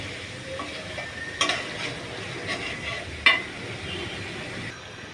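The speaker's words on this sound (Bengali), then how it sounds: "এখন আমি দিয়ে দিব মাছ।" Fish goes into a pan of onions and spices already fried down, setting off a steady sizzle with two sharp bursts of spitting and clatter partway through, close and fairly loud.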